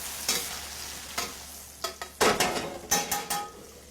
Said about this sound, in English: I'm going to baste them with that hot butter